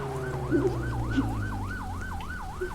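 An ambulance siren in the Roblox game JailBreak wails in fast, regular up-and-down sweeps over a low vehicle hum. A few short blips sound near the start, with no talking.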